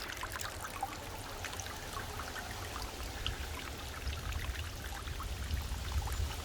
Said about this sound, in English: And we'll let this water settle down a little bit.